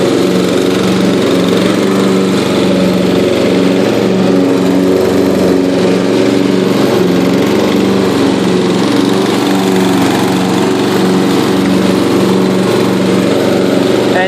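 A Yard King lawn tractor engine runs steadily while mowing, a loud, even drone with a constant rumble and no breaks.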